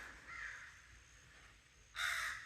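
Crows caw near an owl's territory along a dry creek: a short run of raspy calls, a pause, then a louder burst, moderately distant against quiet outdoor air.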